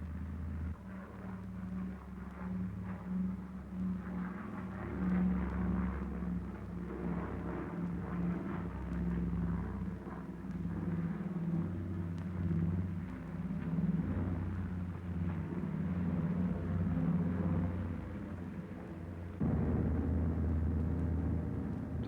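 A seaplane's engine drones steadily throughout its approach to land at Rose Bay, a continuous low rumble with slight swells in loudness.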